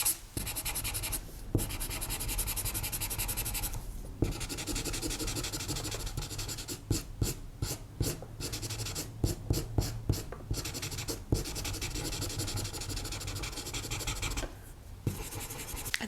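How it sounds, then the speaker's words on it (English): Charcoal smudge stick rubbing and working charcoal into drawing paper while rendering black fur, a steady close scratchy rubbing that runs almost continuously with brief pauses and quicker strokes in the middle. "I'm going to use my smudge stick and again just work that charcoal a little bit into"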